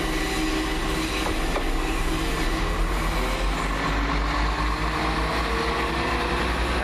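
A British Rail Class 172 train rolls past at Gospel Oak with a loud, continuous rumble, rhythmic wheel clatter and faint squeal, close and sustained.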